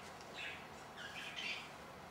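Faint, distant-sounding chirps and short calls from a pet eclectus parrot indoors, a few brief squawky bursts scattered over a quiet background.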